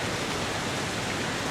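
Broad, steady rushing roar of a waterfall, close and continuous with no other sounds.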